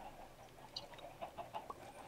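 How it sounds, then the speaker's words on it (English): Chickens cluck in short, scattered bursts over a low background hum, a flock gathered on a farm in a video game, faint and fairly close, with no speech. "Yes, there are many a chicken here."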